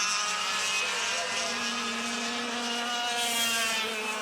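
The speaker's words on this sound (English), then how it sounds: "It will be the number 12 of Ari Hutton, the Super Freight Spark Engine sponsored kart" Yamaha 100cc racing kart engines in a junior final at a CIK Trophy race in New Zealand make a sustained, high buzzing whine. Several engines overlap in a constant, close roar with no pauses.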